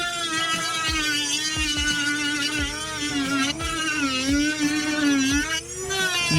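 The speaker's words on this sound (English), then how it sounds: "get the final stroke with the Dremel" A Dremel rotary tool smooths a molded kydex holster with a steady high-pitched whine that wavers as the load changes and runs close and continuous throughout, with faint clicks underneath.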